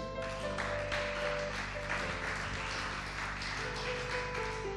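A church congregation applauds together during a worship service, a steady dense wash of clapping that fills the room alone at even loudness, with a sustained organ or keyboard tone running beneath.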